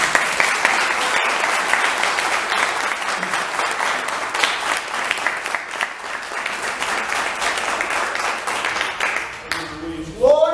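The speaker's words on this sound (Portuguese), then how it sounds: "Você pode aplaudir o Senhor da palavra?" Congregation applauding during a Portuguese-language church service, dense sustained clapping that fills the space for several seconds before a voice rises at the very end.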